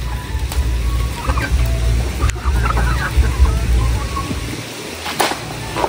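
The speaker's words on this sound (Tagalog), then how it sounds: "Sunudan po yung mga bibi at saka po manok." Clucking and gobbling of chickens and ducks being fed, over a steady low rumble of outdoor noise, with occasional sharp clicks and knocks.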